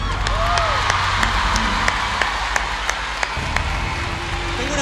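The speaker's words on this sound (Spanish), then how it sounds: "El aplauso para Javier." Audience applause rolls on steadily, with occasional sharper claps and faint cheers mixed into the dense clapping.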